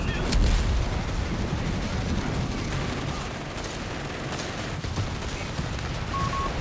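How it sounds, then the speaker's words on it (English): Walking Stuka rocket artillery barrage in the World War II strategy game Company of Heroes 3, a dense rolling roar of rockets and impacts, loudest at the start and sustained throughout over battlefield noise. "Here comes the walking Stuka"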